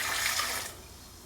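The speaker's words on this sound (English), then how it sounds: "we're going to measure out 32 ounces or a quart of bleach" Bleach poured into small disposable plastic measuring cups, a short gush of liquid that lasts under a second and then quickly fades.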